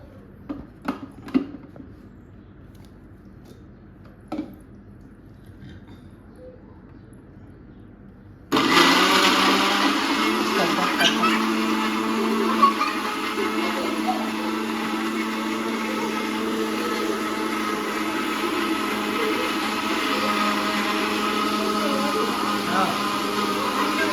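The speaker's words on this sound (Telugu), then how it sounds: "banana Apple mix పట్టినాం" A mixer grinder blends banana and apple for a fruit salad at home, starting abruptly after a few faint knocks and then running as a steady loud whirring roar until the end.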